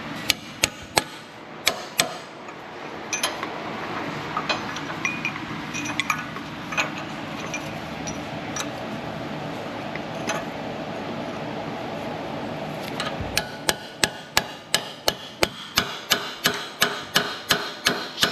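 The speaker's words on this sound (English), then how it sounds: "Let's go back to the first 2 chisels now that we're a little wider here." Metal chisels are hammered against a seized Ford wheel bearing in a steady run of sharp, ringing metallic strikes, sparse at first and then a fast regular volley near the end.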